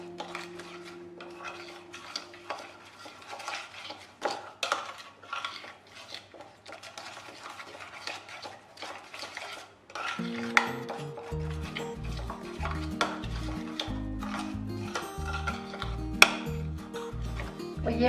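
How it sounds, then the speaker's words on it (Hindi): Ketchup, about three tablespoons, being stirred into a chicken dish with a spoon, giving soft scraping and clinking against the pot; after a few seconds louder, steadier stirring and clatter sets in beneath rhythmic background music. "केचप इसमें तकरीबन मैं 3 टेबल स्पून यूज़ करूँगी बस, और इसको हम मिक्स कर लेंगे।"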